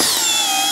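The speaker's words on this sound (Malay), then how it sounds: "Skru yang panjang pun senang je masuk." A NIETZ 16V brushless cordless impact drill drives a long screw, giving one loud, steady high-pitched whine close to the microphone, with no talking.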